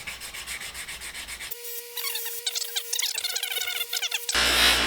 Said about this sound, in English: that's a lot of hand sanding